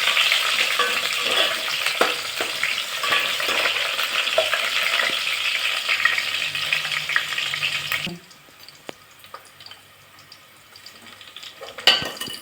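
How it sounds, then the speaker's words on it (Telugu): Onions frying in oil with mustard seeds and cumin for a Nellore fish curry: a dense, close sizzle with stirring for about eight seconds, then quieter crackling and a sharp knock near the end. "ఎర్రగడ్డలు బాగా వేగాలి"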